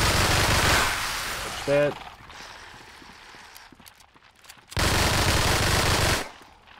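Gunfire in the video game Dead Frontier 2, with two loud bursts of automatic fire at the start and again near the end, separated by quieter game sounds and a short spoken line.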